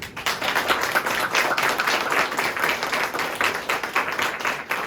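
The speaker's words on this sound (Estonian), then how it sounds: "Ma tahaksin teha ühe suure aplausi meie lauluõpetajale" An audience at a school concert at a Christmas fair in Stockholm's Estonian House applauds the singing teacher. Dense, steady clapping from many hands fills the room at close range without a break.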